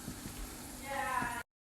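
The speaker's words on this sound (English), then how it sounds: "Our pakora are done frying." Pakora fritters of spinach, onion and potato frying in hot oil, a steady close sizzle that swells in the second half, then a sudden cut to silence and a brief thump at the end.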